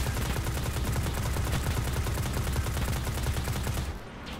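Rapid automatic gunfire from a weapon in the video game Destiny rattles in a loud, continuous burst for about four seconds, then stops abruptly.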